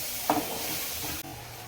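Onions and mint frying in a pan for an egg curry, a short burst of sizzle with a stirring scrape and a brief clink near the start, close-up and without speech.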